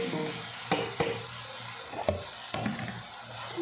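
Meat frying with masala in a karahi for white karahi, a steady close sizzle broken by several sharp scraping stirs of a spoon against the pan.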